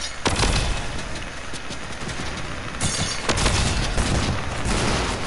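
Video game gunfire rattles in dense overlapping volleys and booms, loud and continuous, with sharper cracks standing out, and no voices.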